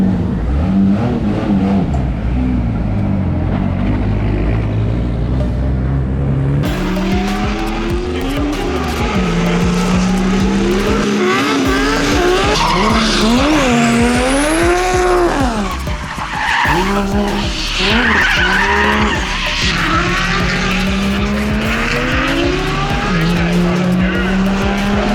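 A drift car at a practice session on a race track, its engine revving up and down in rising and falling sweeps as the tires squeal and skid continuously, loud and close.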